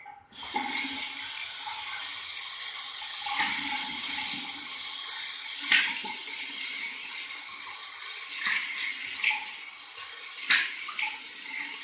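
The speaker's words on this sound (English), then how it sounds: "I'm going to rinse from the tap." Water runs steadily from a bathroom sink tap during a shave with Palmolive shave cream, a continuous hiss with occasional splashes and clinks, fairly close and with no speech.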